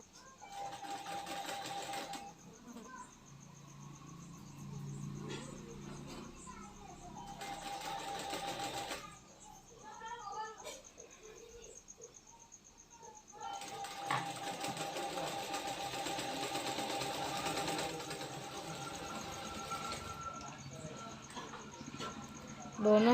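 Sewing machine running in several long stitching bursts while a katori blouse is sewn, with short pauses between runs and a voice speaking faintly during the gaps.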